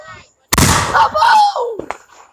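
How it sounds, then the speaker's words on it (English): A firework goes off with a sudden loud bang and broadband crackle, followed by a burst of close talking and a couple of short sharp pops near the end. "So today we're shooting fireworks again, part 2."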